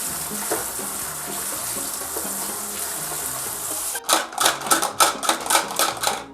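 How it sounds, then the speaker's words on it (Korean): Used soft plastic fishing lures, a lip grip, pliers and scissors rinsed under lukewarm or cold tap water: a steady hiss of running water, then a series of rhythmic splashing, clattering bursts close by. "자, 미온수 아니면 차가운 물로 헹궈주면 돼요."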